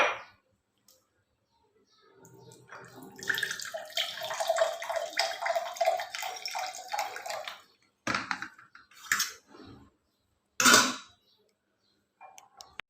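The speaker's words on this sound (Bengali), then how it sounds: "যতটুকু গলছে ততটুকু নিয়ে নিই" Melted ice water is scooped and collected: a few seconds of quiet, then a sustained splashing pour, followed by several short separate sloshes and clanks.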